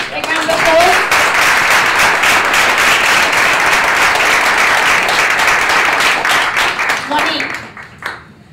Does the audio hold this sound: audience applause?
yes